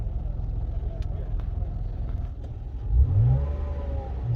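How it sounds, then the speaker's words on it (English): A car engine idles with a low rumble, then revs up briefly near the end; close by and steady. "I am starting his car up."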